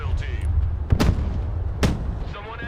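Artillery shells exploding during a volley in the war game Broken Arrow, two sharp booming blasts about a second apart over a steady low rumble of battle, with a voice talking throughout.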